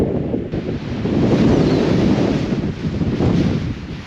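Strong wind blowing about 25 miles an hour buffets the microphone in a loud, continuous roar, with gusty surges and no voices.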